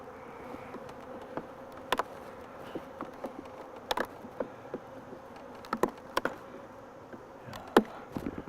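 Honey bees drone steadily around an open hive, with individual bees buzzing past close by in brief louder swells over a soft, continuous hum and no talk.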